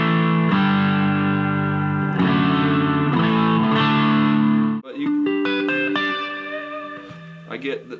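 An electric guitar runs through a reverb pedal and an overdrive pedal, ringing sustained chords for about five seconds, then a brighter picked phrase of single notes and chords, close and loud, with no talking.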